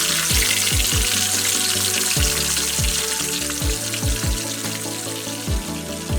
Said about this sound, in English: Fry the Tonkatsu at 320 degrees for about 6 to 7 minutes.